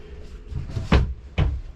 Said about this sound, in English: You just twist and it locks the door so it can't move.